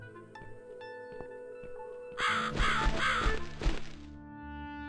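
A crow caws in the video game The Cat Lady, a burst of harsh repeated calls rising over a steady musical backdrop about halfway through, then fading back to the ambient score.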